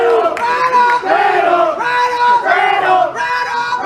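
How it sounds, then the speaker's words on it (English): A loud crowd at a high school 16-inch softball city championship game between Taft and Payton roars and yells in swelling waves, close and continuous, with shouting voices rising and falling through the whole stretch. "Very loud crowd here."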